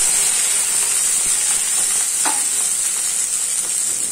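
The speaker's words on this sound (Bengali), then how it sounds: "সাদা তেলে গোটা গরম মশলা আর একটা তেজপাতা দিয়ে দিচ্ছি" Whole garam masala spices and a bay leaf dropped into hot white cooking oil, giving a loud, steady bright sizzle and hiss up close, with a brief crackle partway through and no talking.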